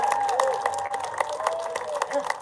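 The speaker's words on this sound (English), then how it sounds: "If we can give everybody a round of applause," An audience applauds with a dense, steady patter of clapping that holds for a couple of seconds, mixed with crowd noise and shouted voices.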